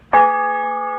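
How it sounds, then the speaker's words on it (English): A church bell in a bell tower, swung by a rope pulling a wheel, gives a single loud close strike that rings on with a sustained, steady hum. "it swings the bell back and forth in the bell tower."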